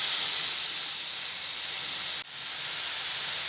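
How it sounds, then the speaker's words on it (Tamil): Onions and beetroot sautéing in oil in a pan, a bright steady sizzling hiss that fills the whole stretch, briefly dipping once partway through before picking back up. "பீட்ரூட் இந்த எண்ணெயிலே 2 நிமிஷம் அப்படியே வதங்கி வரட்டும்."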